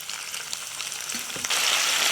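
Green chillies, dried chillies and ginger sizzle in hot oil while tempering for tamarind pulihora, a steady crackling hiss with a few soft stirring knocks that swells louder and denser in the last half second, with no voices.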